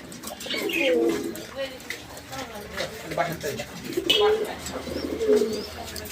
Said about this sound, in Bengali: আপনার ঘুরে ঘুরে ডাকতেছে যে দেখেন কবুতর দেখতে পারতেছেন